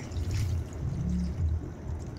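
Water poured into a pot of pancit sotanghon broth with chicken breast, a steady close splashing pour lasting a couple of seconds.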